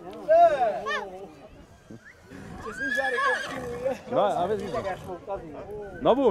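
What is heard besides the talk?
horses neighing at a horse fair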